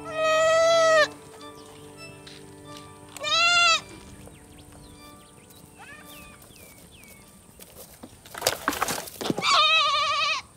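Young goat bleating for its mother, several loud, wavering cries spaced apart, with faint bird chirps and rustling between calls in an outdoor setting.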